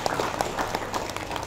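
Seminar audience in a hotel function room claps briefly, a steady patter of many hands over a short moment.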